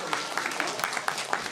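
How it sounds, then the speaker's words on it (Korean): Applause from an audience at a ruling-party event in Gwangju, a steady wash of clapping with scattered sharper claps, moderately faint and continuous through the short stretch. "박수 부탁드립니다"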